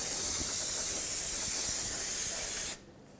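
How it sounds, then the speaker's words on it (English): Aerosol brake parts cleaner sprays in one continuous loud hiss for nearly three seconds on the rear axle of a 2008–2010 Ford F-250 in a workshop, then cuts off abruptly to quiet. "I'd like to clean this whole area with some brake parts cleaner"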